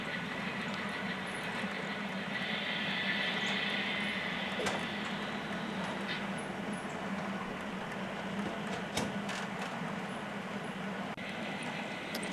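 A model train rolls downgrade on a multi-level layout toward Black Diamond, a steady faint running rumble with soft rail clicks and a few sharp ticks, continuous and without talk.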